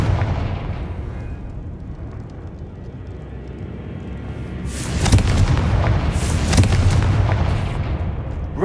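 Confringo blasting spells explode in the Hogwarts Legacy video game: rumbling booms over a low ambient bed, with two heavy blasts close together near the end.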